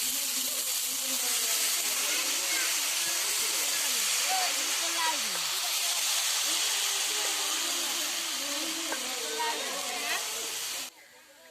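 Potatoes fry in oil with onion, chili and turmeric at an outdoor picnic, giving a steady, close hissing sizzle throughout, with faint voices and background murmur.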